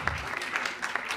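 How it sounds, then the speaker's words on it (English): Conference audience giving a round of applause, steady dense clapping from a crowded room with a few sharper nearby claps, moderately loud and without talk. "Give him a round of applause."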